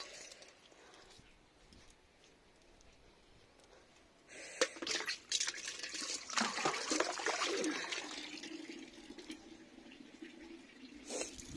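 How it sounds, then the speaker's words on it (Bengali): Water pouring from a watering can onto rooftop potted plants on a winter morning, a steady near splash and trickle that swells midway and runs on, with no one talking over it. "পুরো জলটা বাইরেই পড়লো।"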